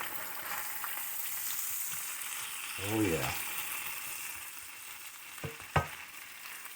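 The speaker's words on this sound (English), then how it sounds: "Oh, it's frying up." Bacon-fried chicken frying in a Presto electric skillet gives a steady, close crackling sizzle throughout, with a short spoken remark and a couple of brief clattering handling sounds partway through.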